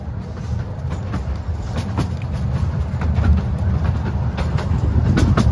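A lakeside ride train runs along its rails through forest, a loud, continuous rumble with rhythmic clickety-clack from the wheels and no voices over it.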